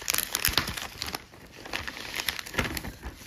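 Packing material in a well-packed parcel crinkles and rustles up close in quick, irregular bursts while it is unwrapped, with no voices.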